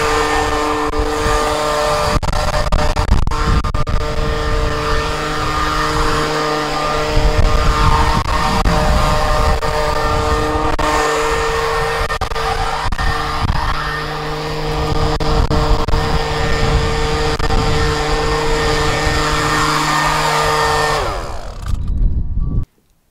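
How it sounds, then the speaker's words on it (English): A leaf blower roars continuously up close, blasting strong wind across vehicle tire covers, a loud steady motor whine with gusty rushing air for over twenty seconds before cutting off abruptly. "as demonstrated by my leaf blower that produces a 70-mile-an-hour wind"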